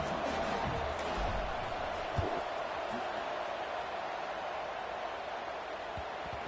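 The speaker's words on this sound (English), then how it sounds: "this crowd is buzzing after that last score" Steady stadium crowd murmur in a Miami versus Michigan football video game, a constant buzzing roar held at even loudness after a score, with faint rustle and no clear cheering peaks.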